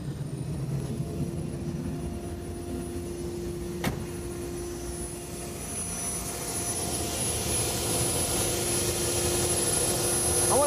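A 1963 Chrysler Turbine car's turbine engine starting up: a steady whine that slowly rises into a broad, building rush of air, growing louder toward the end, with one brief click partway through.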